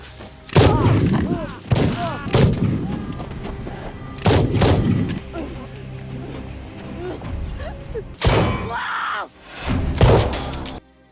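Several sharp, loud bangs ring out at irregular intervals, mixed with thuds and indistinct voices in the background.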